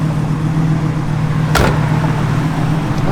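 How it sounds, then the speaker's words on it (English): Dashboard blower motor of a 1969 Chevrolet Camaro running inside the cabin, a steady low hum with a broadband whoosh and a brief click midway. "Blower motor works."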